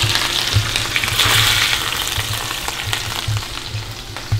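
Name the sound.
thick sailfish steaks searing in a pan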